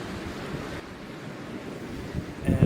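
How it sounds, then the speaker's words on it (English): Waves crash on the rocky shore at Giant's Causeway under steady wind rumble, a continuous broad wash of surf with a louder surge near the end. "Waves crushing in, but they're hard to catch."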